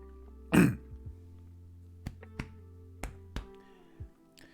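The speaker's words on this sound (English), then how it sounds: "I need to learn to mute myself whenever I'm about to like clear my throat out" A single short throat clearing up close, followed by a few faint scattered clicks and taps in an otherwise quiet room.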